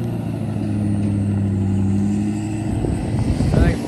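Trucks pulling trailers rumble past with a steady low engine drone that swells slightly as they go by, and voices talk over it near the end.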